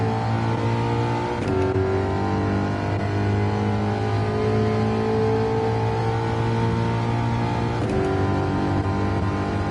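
Race car engine drones loud and steady at high revs, its pitch climbing gradually as throttle is fed in early, with brief gear-change dips near the start and end, heard from on board with no talk.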